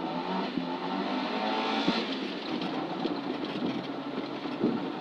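A Volvo rally car pulls away at a rally race, its engine droning loud and close, with a broad steady roar and a few sharp knocks as it sets off.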